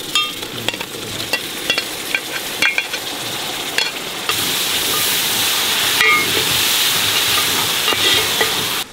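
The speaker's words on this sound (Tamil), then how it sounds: "ஊற வச்ச மட்டனை அப்படியே போட்டுக்கலாம்." Marinated mutton dropped into a pan of sautéed onion, ginger and garlic for Kongunadu-style biryani, a steady loud sizzle and hiss with scraping stirring strokes, intensifying midway as the frying grows vigorous.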